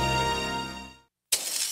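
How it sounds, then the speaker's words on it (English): A sustained ringing tone cuts off into brief silence, then a sudden loud crash of shattering and breaking objects. "That's the sound of a house being trashed while a gang of thieves ransack the place."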